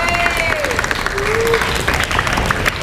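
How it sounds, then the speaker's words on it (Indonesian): Applause from a crowd of students and teachers at a school session on adzan and calligraphy, a dense patter of clapping with some voices and whistling tones mixed in, brief and close. "Beri tepuk tangan"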